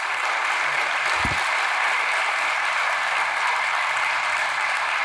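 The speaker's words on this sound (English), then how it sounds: "Can we all give Emilia Gómez a big round of applause?" Audience applause at the close of a tech conference talk on data-driven music listening, a steady dense wash of clapping sustained evenly throughout, fairly loud and unbroken.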